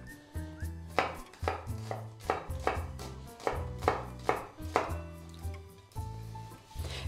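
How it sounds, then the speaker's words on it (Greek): A knife finely chopping onion on a cutting board for Greek onion fritters, a close, crisp series of rhythmic taps in quick bursts with short pauses, no speech. "Το κρεμμύδι ψιλοκόβουμε."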